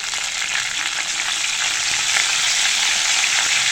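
Steady, loud sizzling of curry leaves and green chillies dropped into hot oil, a dense crackling hiss that holds evenly throughout with no talking.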